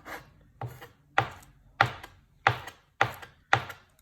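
A knife chops green onions on a board in seven evenly spaced strokes, each a crisp, close thunk with a short tail, alone and fairly quiet.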